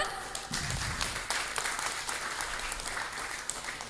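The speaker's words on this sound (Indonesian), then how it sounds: "tepuk tangan untuk kita semua" A live audience applauds continuously at the close of a journalism roadshow event in Bogor, a steady, dense wash of many hands clapping with no speech over it.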